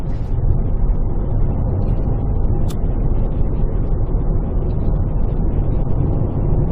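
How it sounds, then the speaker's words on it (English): Steady, loud roar of wind buffeting the microphone, a dense low rumble that never lets up, with no voices. "It is very windy."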